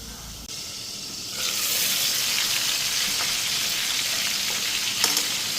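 Fish fry in hot oil in a pan, giving a steady, dense sizzle that swells after a quieter start and carries on close and even, with a few faint clicks and no voices.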